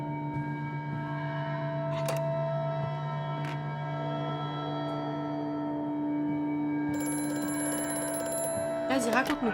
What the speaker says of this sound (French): je crois que c'était un téléphone